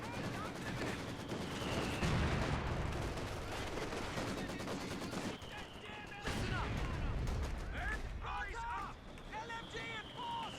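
Machine gun fire in a multiplayer World War II strategy game battle against a 222 armored car, bursts of gunfire and mechanical clatter mixed with explosions and effects, heard faintly under someone talking throughout.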